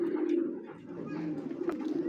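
Racing pigeons cooing steadily in a cage, a continuous low warbling drone with overlapping calls close by, a faint murmur of voices underneath.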